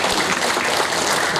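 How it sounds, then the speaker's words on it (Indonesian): Seminar audience claps for Bung Hasto in a continuous, dense burst of applause, loud and sustained throughout with no voices breaking through. "kita tepuk tangan dulu untuk Bung Hasto Presiden"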